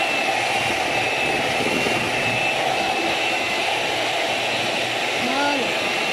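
An electric mixer whirring at speed 2 as it beats génoise sponge batter, a steady close drone holding level throughout.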